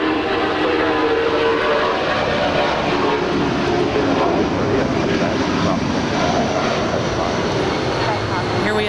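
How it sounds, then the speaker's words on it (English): A 19-year-old Delta Boeing 757-300 jet at LAX airport gives a loud continuous engine roar that fills the whole span, with a voice talking over it. "Here we have Delta 2198 to Minneapolis. It's a 19-year-old Boeing 757-300."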